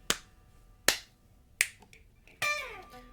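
Three crisp finger snaps at a steady beat, followed by a brief whooping vocal sound; quiet, close, and otherwise still.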